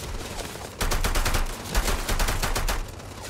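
Rapid gunfire from the video game Starfield: a dense, sustained volley of shots bursts in after a quieter first second and keeps up loudly to the end.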